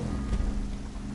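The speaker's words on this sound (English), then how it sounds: "I feel like now the weather is raining, so it's the game." Steady rain falling during a GTA racing session, a continuous broadband hiss with a low rumbling undertone that stays fairly even throughout.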